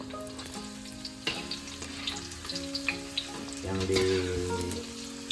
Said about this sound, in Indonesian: digoreng terlebih dahulu adalah bawang merahnya